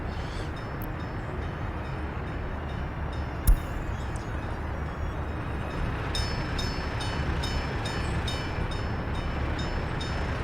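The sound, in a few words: trains running in Workers & Resources: Soviet Republic video game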